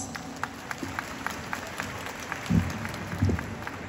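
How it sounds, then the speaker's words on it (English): Scattered audience clapping at a senior high school commencement ceremony, fairly faint and distant in a large hall, with a few louder thumps partway through. "Let us give our parents a big round of applause."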